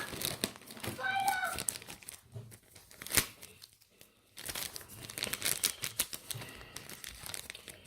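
A plastic bag holding an RC air filter for a Losi 5ive T intake gets torn open, with sharp crinkling and ripping in short bursts close by, then quieter rustling as the wrapper is handled.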